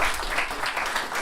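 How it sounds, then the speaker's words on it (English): Applause from an audience for a speaker at a fintech analytics talk, a dense steady clapping that fills the whole short stretch at moderate loudness. "Can we have a round of applause for John"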